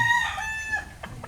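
A chicken being held and handled for comb trimming gives a sharp, tonal squawk, followed by a couple of short, close clucks in quick succession.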